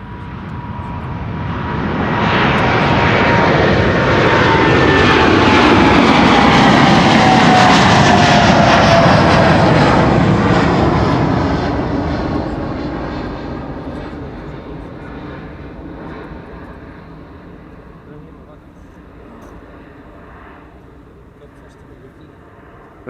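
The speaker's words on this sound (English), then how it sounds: "KLM flight 749 on its way to Bogota." A KLM airliner bound for Bogota takes off from Amsterdam Schiphol's runway 24, a loud jet roar swelling over several seconds, peaking, then slowly fading into the distance as it climbs away, with people chatting over it.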